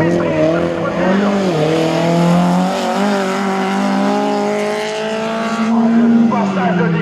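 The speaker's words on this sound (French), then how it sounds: "Waouh, la glisse, la maîtrise de cette voiture." A race car slides through a slalom course at the 2017 Neufbourg slalom event, its engine whining and shifting pitch as it rises and falls, loud and close, with tire squeal and a commentator talking over it.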